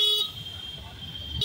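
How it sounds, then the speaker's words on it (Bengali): Street traffic jam on Hill Cart Road in Siliguri, with a nearby car horn giving two short toots at the start and end of a brief moment of engine and road rumble. "রাস্তায় সেই বড় ট্রাফিক জ্যাম।"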